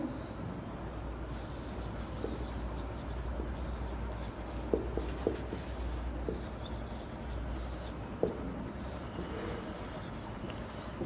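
Pen writing out a Class 11 NCERT maths solution, with faint scratches and a few sharp taps against a steady low hum of background noise.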